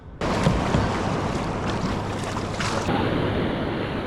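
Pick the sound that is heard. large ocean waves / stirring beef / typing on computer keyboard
large ocean waves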